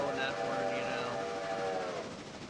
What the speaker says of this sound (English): Just got distracted listening to the train